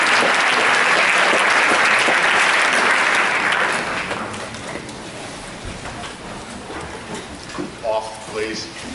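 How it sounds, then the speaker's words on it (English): Loud, dense applause fills the hall at a senior prize assembly, then fades after a few seconds into scattered claps, shuffling and murmured voices. "I think a round of applause for Jessica Liu."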